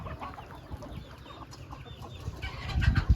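Chickens clucking inside a poultry coop, several birds close by with short overlapping clucks, growing louder toward the end.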